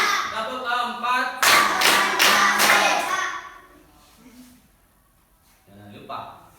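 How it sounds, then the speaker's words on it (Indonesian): A class of children claps a rhythmic clap chant in short bursts of quick, loud hand claps, mixed with a speaking voice, then pauses before talking resumes. "tepuk-tepuk dulu ya"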